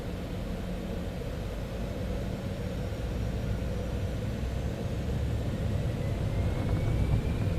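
Citation X business jet engines spooling up in Microsoft Flight Simulator 2024, a steady broadband roar and rumble that slowly swells in loudness near the end of a runway, with no talking.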